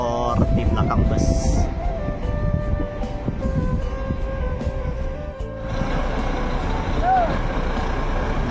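A Volvo B11R coach reverses while its engine rumbles loudly nearby, with a pneumatic hiss and intermittent beeps over the steady drone.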